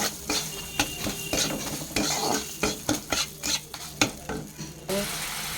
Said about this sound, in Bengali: এবার আমি দিলাম নুন হলুদ আর একটু চিনি দিয়ে ভালো করে নাড়িয়ে নেব।